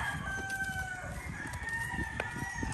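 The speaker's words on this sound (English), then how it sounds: "Roosters. The roosters." Roosters crow faintly in the distance on Boracay Island, drawn-out calls rising and falling over a low background rumble.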